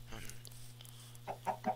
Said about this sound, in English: whether you like it or not, we're keeping these chickens